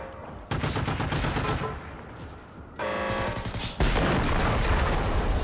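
Sustained bursts of automatic gunfire from the video game Generation Zero, loud and dense rapid shots that pause briefly and then resume, getting heavier toward the end.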